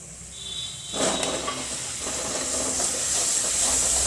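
Ground tomato poured into a hot pan of cooking masala with green chillies hisses and sizzles, starting suddenly and settling into a steady, fairly loud steam-like hiss.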